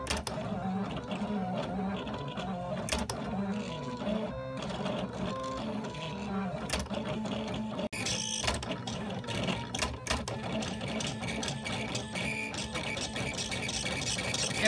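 A Silhouette Curio machine etches acrylic with a continuous, dense mechanical whirring and buzzing. The carriage movement shifts steadily throughout, loud and close, with no talking.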